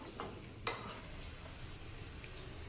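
Cashews and raisins sizzle in a pan of oil for a South Indian rice kali dish, a steady close frying crackle with one sharp metallic clink of a stirring spoon early on.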